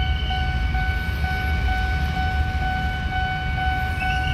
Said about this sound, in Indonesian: Kelihatannya ada kereta akan melintas.